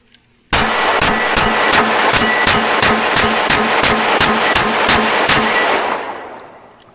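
A Daniel Defense H9 pistol fires rapidly through a full magazine, about fifteen loud, evenly spaced shots with ringing echoes, followed by a fading tail.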